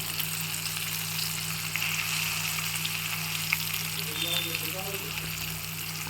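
Potato slices fry in oil in a pan, giving a dense, continuous sizzle that holds steady and close throughout, with faint crackles scattered on top.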